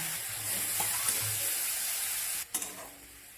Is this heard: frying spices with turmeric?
yes